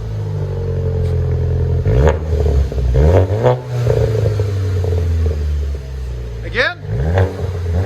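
A 2017 VW GLI turbo engine with its resonator deleted revs repeatedly, rising and falling in loud, close bursts with throaty exhaust and a turbo whoosh, while someone talks over it.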